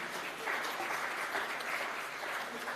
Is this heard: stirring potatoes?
no